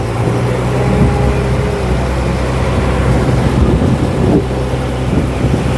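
A fishing boat's engine runs at sea on a morning trip, a loud, steady low drone mixed with wind buffeting the microphone, continuous and close throughout, with no voices.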